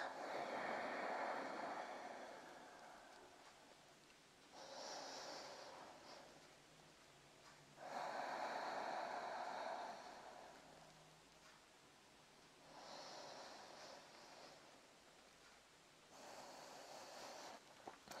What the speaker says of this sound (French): Et on respire.